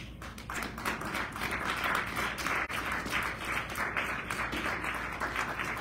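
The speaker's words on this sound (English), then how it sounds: "How about another round of applause for Deb Priesly?" An audience at a live poetry reading applauds a performer, dense steady clapping from many hands that holds throughout at a fairly loud, close level.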